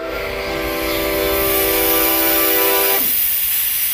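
A third-scale miniature railway train running to Dungeness, with a loud steady hiss and a sustained whistle-like tone that cuts off abruptly near the end as the running noise carries on.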